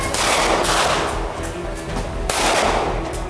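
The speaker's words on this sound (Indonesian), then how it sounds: "Polisi bahkan terpaksa melepaskan tembakan ke udara" Police fire warning shots into the air during a drug raid, a sharp burst of gunfire, with one crack at the start and another a couple of seconds later, each ringing out over a noisy, echoing background.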